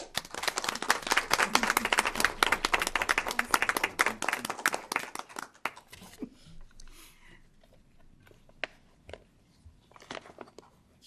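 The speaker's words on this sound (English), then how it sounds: "Would you please join me in a round of applause?" A school board meeting audience gives a round of applause. Dense clapping fills the first half, then thins to a few scattered claps that trail off.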